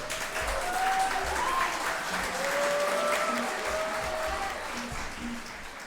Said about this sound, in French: On applaudit Prime.